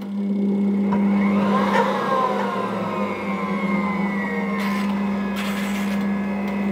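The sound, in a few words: dough kneading machine running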